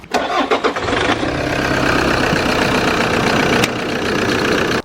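An old Toyota car engine cranks with a few quick starter bursts, catches and settles into a steady, close idle that runs on without talk.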